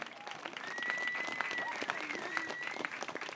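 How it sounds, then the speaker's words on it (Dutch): Faint, sustained clapping from an audience at a rainy outdoor Christmas concert at Landgoed De Klinze in Oldekerk, heard from a distance with a voice briefly over it. "zullen we de familie van der Meulen en degene die hen mee hebben geholpen een warm applaus geven"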